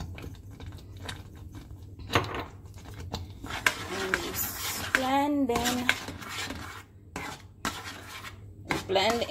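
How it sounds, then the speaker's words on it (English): Spoon scraping and clinking against a pot while cinnamon and nutmeg are stirred into green banana porridge, steady close kitchen clatter with a few sharper knocks and brief speech-like voicing mixed in. "Blend in the cinnamon and the nutmeg."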